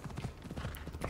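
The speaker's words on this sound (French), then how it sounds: "Allez, mon cheval." Rapid, continuous hoofbeats from a galloping horse in a video game pound steadily and up close, with a brief bright chime partway through.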